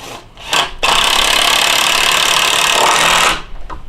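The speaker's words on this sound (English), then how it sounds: "The lag screw, 5/16 by 2 by a half, through the hole and into the board." A 5/16 by 2-1/2 inch lag screw is driven into a wooden swing-set board, a sustained loud grinding rasp of about two and a half seconds, preceded by a couple of short bursts.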